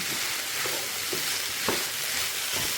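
A potato mixture stirred in a non-stick pan: constant soft frying hiss underneath faint, scattered scrapes of a spoon moving through the food, close and low in level, without any voices.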